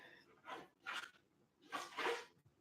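Dogs at home barking and whining in a few short bursts, two separate outbursts with pauses between them, moderately close and alone with no talk over them.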